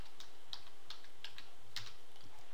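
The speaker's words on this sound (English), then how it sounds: "Let's go up here and type in search." A search typed on a computer keyboard, with light, irregular key clicks tapping at a moderate pace, faint and near, no voice.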